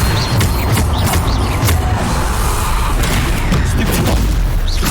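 Bombarda spell explosions in Hogwarts Legacy, heavy booming blasts with crackling bursts layered over dense battle noise, loud throughout.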